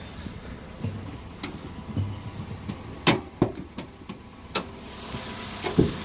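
2014 Nissan Sentra engine idling under the open hood, a low steady hum punctuated by sharp clicks and ticks, heard close and fairly quiet.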